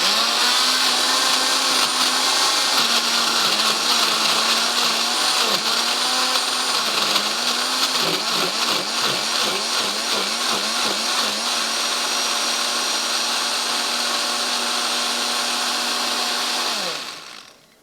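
An electric kitchen grinder whirs loudly while grinding a tomato and onion masala. The motor holds a steady high whine, wobbles and churns in the middle as the contents catch, then winds down sharply at the end.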